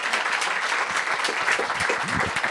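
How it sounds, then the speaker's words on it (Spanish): A live audience at a women's leadership panel claps for the panelists, a close, busy burst of applause with individual hand claps standing out and a few low voices underneath. "Yo creo que les demos un aplauso a las panelistas."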